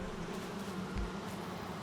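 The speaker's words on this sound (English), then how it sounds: "Those bees are still happy bees." Honey bees swarming close around their hive, a dense continuous buzzing hum that stays loud and steady throughout, with no one speaking.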